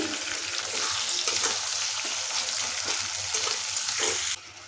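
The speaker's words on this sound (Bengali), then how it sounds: "আদাটা একটু নেড়ে নিয়ে দিয়ে দিচ্ছি দুটো টমাটো কুচি দিচ্ছি" Chopped tomatoes and ginger fry in a pan for a Kolkata-style club kachori curry, giving a steady, close sizzle with occasional stirring scrapes before the sound cuts off abruptly near the end.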